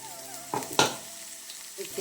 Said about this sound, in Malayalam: നമുക്ക് ഈ ചതച്ച് വെച്ചിരിക്കുന്ന വെളുത്തുള്ളി വറ്റൽമുളകും ഇട്ട് കൊടുക്കാം.